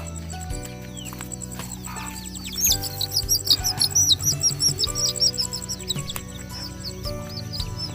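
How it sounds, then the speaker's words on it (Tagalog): Muscovy ducklings peep and chirp in a steady chorus of high, repeated calls that swell louder in the middle. A low background hum runs underneath. "kukulong ko muna yung mga sisiw."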